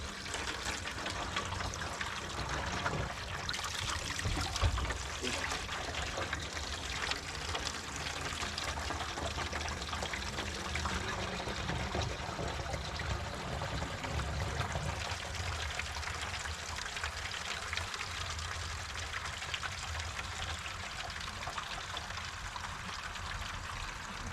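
Water gushes steadily into gallon containers from a truck tank, a continuous broadband pouring rush that stays constant and fairly loud throughout with no talk.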